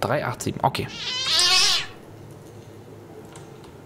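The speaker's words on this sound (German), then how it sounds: "Das war eine Katze." A cat meows once with a drawn-out, bleating cry in the horror game Evil Ritual, rising clearly after brief speech and fading into quiet background.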